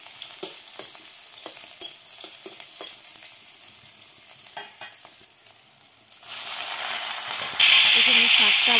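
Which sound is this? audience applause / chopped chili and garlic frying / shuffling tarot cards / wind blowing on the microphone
chopped chili and garlic frying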